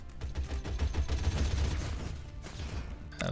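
Flak cannons firing in the strategy video game Warside, a loud, dense run of rapid booming shots that rattle on continuously before a sharper final blast.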